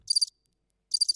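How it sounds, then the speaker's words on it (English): Crickets chirp in two short trilled bursts separated by a pause, played as a sound effect, faint and alone with no voices. "And if you get one wrong, there's crickets."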